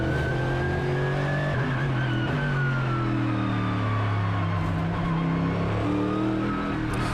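A race car on a simulator lap revs steadily up through the gears, with the engine note climbing, dropping at each shift and climbing again, loud and continuous.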